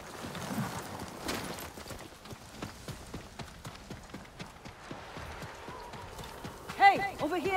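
Horses' hooves clip-clop steadily through a Ghost of Tsushima game scene, with a neigh and a burst of louder hoof and movement sounds near the end; a voice speaks over parts of it.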